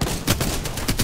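Rapid gunfire in a fast Apex Legends fight, several sharp bursts in quick succession at close range, heard alone without talk.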